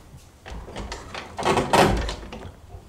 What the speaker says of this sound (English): That's a scary ass sound of a door